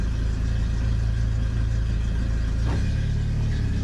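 A 1997 Jeep Wrangler TJ engine pulls steadily in second gear with a low, continuous rumble, and near the end the pitch drops as the load shifts, staying close and fairly loud throughout.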